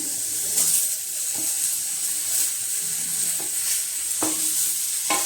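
Finely chopped tomatoes frying with browned onion for egg curry, with a steady sizzling hiss and occasional spoon scrapes and knocks as the mix is stirred. Loud and close.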